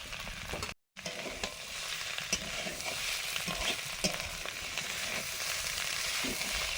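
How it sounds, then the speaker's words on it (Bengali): Fried potatoes and spiced prawns are stirred together in a frying pan with a soft steady sizzle and scraping, punctuated by occasional light knocks of the spoon. "ভাজা আলুগুলো দিয়ে ভালো করে একসঙ্গে মিশিয়ে নিচ্ছি"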